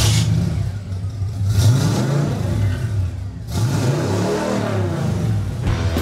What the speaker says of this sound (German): Der Lkw-Fahrer tritt mit seinem röhrenden Chevrolet Camaro an.